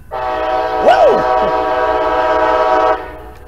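A loud, sustained multi-tone horn from a passing Coaster commuter train blares for about three seconds, close by at Encinitas Station, while a quick swooping whoop cuts across it early on.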